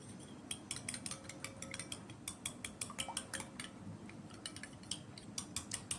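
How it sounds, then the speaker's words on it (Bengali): An egg beaten with a little salt in a bowl for fish batter, a rapid, irregular clatter of fork or whisk tapping against the bowl, close and fairly quiet, with no talking. "সামান্য একটু নুন দিয়ে অমলেটটাকে ঘেঁটে দেব"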